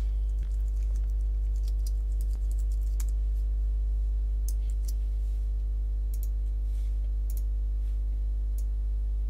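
Rapid, irregular keystrokes tap out a heading on a computer keyboard, light clicks over a constant low electrical hum.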